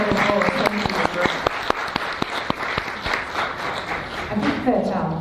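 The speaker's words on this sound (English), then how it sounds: "Round of applause." Audience applause at a women's post-natal depression support event, a dense patter of clapping that swells and holds steady with scattered sharper claps, a voice speaking briefly over it near the end.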